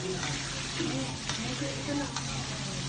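Steady, crackling sizzle of chicken frying in hot oil, close and continuous, with faint clinks and background hum.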